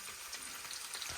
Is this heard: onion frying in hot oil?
yes